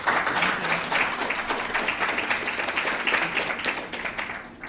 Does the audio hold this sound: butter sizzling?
no